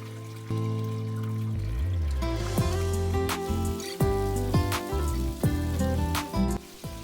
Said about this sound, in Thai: จะมีน้ำไหลเวียนเข้าและออกตลอดเวลาค่ะ